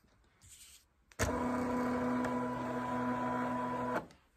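A Silhouette Cameo cutting machine runs with a steady close mechanical whir and hum at the end of a cut, starting abruptly and stopping sharply after about three seconds, with a brief softer motor sound before it.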